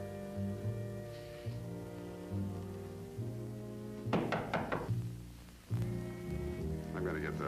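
Knocks on a door in a television drama, two short bursts of several sharp raps separated by a pause, heard under a faint background hum with voices nearby.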